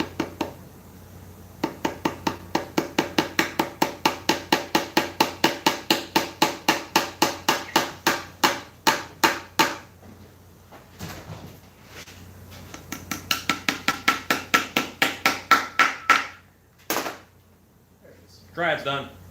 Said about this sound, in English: Hardest hammer in the world to use.